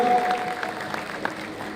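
Audience at a fundraising gathering in Leicester claps briefly, a soft burst of applause from a small crowd lasting under two seconds.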